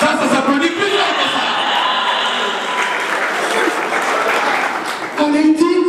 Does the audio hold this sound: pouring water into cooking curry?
no